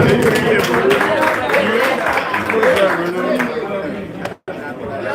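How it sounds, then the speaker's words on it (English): Applause from the crowd at a Chinese eight-ball pool final, with clapping mixed into loud chatter and voices for several seconds before briefly cutting out. "A round of applause, ladies and gentlemen."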